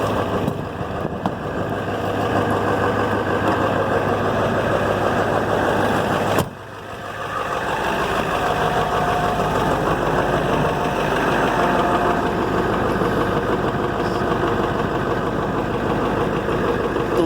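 A 1997 Ford Powerstroke diesel idles steadily after a cold start, a loud, continuous rough clatter that briefly dips partway through before settling back to the same even rumble, with no talking.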